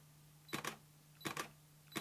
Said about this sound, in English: If I push it all the way down, it'll fire the shutter